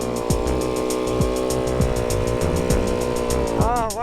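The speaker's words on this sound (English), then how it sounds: "That's quite a big load he's carrying for a two-stroke snowmobile." A heavily loaded two-stroke snowmobile engine revs hard and steadily in the snow, a buzzing, close, loud drone with quick throttle blips and a rising pitch sweep near the end.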